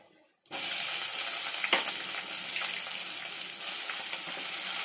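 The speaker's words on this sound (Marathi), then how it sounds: "कांदा आपल्याला कसा हलका लाल गुलाबी रंगावर परतून घ्यायचा आहे" Chopped onion hits hot oil already holding black pepper, cloves, bay leaf and cinnamon, bursting into a steady sizzle after a brief silence, with a faint stirring scrape partway through.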